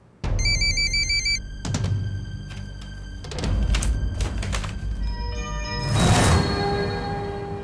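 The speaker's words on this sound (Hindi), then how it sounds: "अर्जुन का फोन यहाँ।" A telephone rings with a rapid warbling electronic trill, loud and close, followed by clunks and handling knocks and a whooshing swell at the end.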